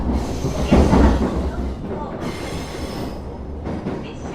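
Interior of a Japanese Echigo Line local train under way, with a steady low rumble, rhythmic wheel clatter and brief squeals, a surge of louder running noise early on and faint background voices.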